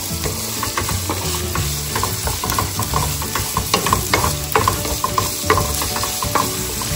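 Onions fry in a pan while a spatula stirs and scrapes them. A close, steady sizzle carries clattering utensil knocks, with no talking.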